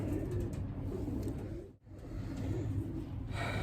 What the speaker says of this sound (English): Absolutely cracking little pigeon, I have to say.